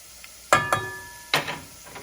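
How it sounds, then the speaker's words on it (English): Chilies spluttering in hot oil for a green mango pickle, heard as a few sharp crackling pops in separate bursts over a quiet background. "as the chilies begin to splutter"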